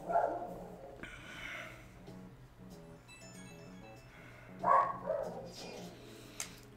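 Dogs bark in the Persona 5 video game, two short bursts of barking separated by a few seconds over quiet game background music.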